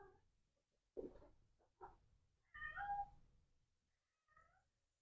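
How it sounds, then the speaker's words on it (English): A house cat meows several times at close range in a quiet room, with distinct separate calls spaced out by pauses, some short and one longer, drawn-out cry. "There goes my cat."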